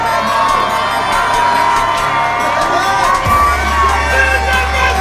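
Loud crowd at a combat sports TKO win at Combat Night Pro cheers, whoops and yells continuously, with a dense roar and a low rumble joining partway through.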